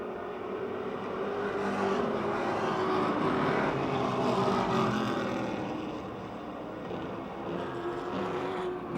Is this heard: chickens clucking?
no